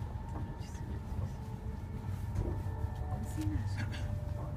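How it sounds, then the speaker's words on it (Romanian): A train in Manchester rolls along with a steady low rumble and rattle heard from inside the carriage, under people talking softly. "Mai mergem cu trenul?"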